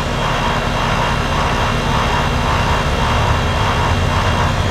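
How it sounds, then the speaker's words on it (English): An old Rheem air conditioner compressor that is making an abnormal noise runs loud and close, giving a continuous droning roar with a rough, pulsing texture throughout, with no talking. "this is that compressor. It's making a funny noise."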